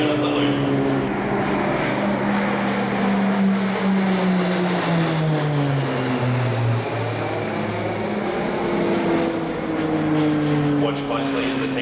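RAAF Roulettes training aircraft flying a formation display at the Avalon air show, a loud propeller-engine drone with pitch sweeps as the planes pass overhead, with an announcer talking over the noise.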